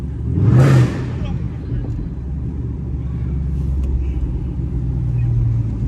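A loud catless Chrysler 300C drives through downtown Chicago at night, its exhaust a deep, steady rumble that swells briefly near the start and then drones on continuously at close range.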